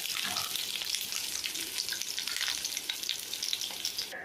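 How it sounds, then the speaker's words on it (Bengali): Pointed gourd (potol) pieces frying in hot oil in a pan, a steady close crackling sizzle with occasional louder pops throughout. "পটলগুলো একটু লাল করে ভাজবো আমি।"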